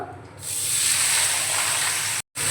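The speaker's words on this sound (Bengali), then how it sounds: "ঝুড়ো করে কেটে রাখা আলুটাও ভেজে নেব" Finely cut potatoes hit hot white oil in a pan with a sudden loud burst of hissing that stays steady and close, broken only by a brief silent gap near the end.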